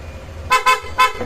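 A motor scooter horn honks three short times, loud and close, two quick blasts then a third after a brief pause, over low background rumble.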